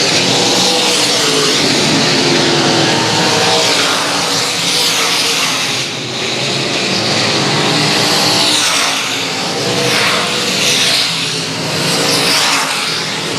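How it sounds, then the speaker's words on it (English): Race cars circle a speedway oval in a continuous loud roar of engines passing close by, swelling and fading as the pack laps slower traffic, with a hint of tire squeal and no talk over it. "Now they're going to come up and lap the 4 car, Kenny Montgomery."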